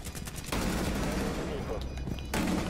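Gunfire rattles loudly through a Rainbow Six Siege match, a dense burst filling the middle of the moment and another starting near the end, with players' voices mixed in.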